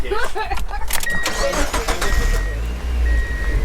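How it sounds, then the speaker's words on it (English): A manual car's engine cranks and catches with the clutch pressed to the floor, then settles into a loud, rough rumbling idle heard from inside the cabin, with some background voices. "So push the clutch to the floor, start it."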